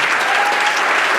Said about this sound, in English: Please give a round of applause for Terrence Nance.